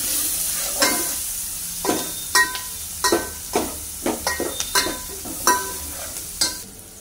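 Onion frying in a pan with hing powder and bay leaf for a village-style chicken curry, a soft background sizzle broken by a regular series of sharp spoon scrapes and clinks against the pan, close and distinct, no talking.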